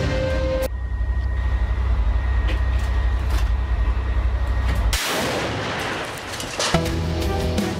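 Gunfire and heavy artillery-like blasts in combat footage from the Shujaiyah area of Gaza, a loud sustained rumbling barrage that breaks off near the end into harsher noisy bursts.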